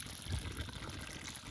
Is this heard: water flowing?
yes